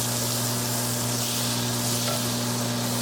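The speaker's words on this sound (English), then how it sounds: "See that sizzle? That's what you want to hear." Butter sizzles steadily in a hot pan ahead of pork chops going in, a constant dense hiss close by with a low hum underneath and no talking.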